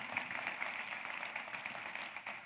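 An audience at a university public health convocation ceremony applauds the mayor, a steady, faint wash of many hands clapping at a distance with no clear talk over it.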